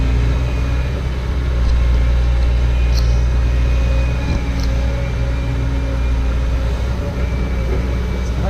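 A hydraulic excavator working in a marsh gives a steady, loud low diesel rumble that runs throughout, with a few faint higher clanks and squeaks over the top.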